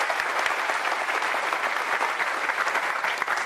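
A conference audience at a software talk claps continuously, with dense, even applause at a fairly loud level and no voices over it.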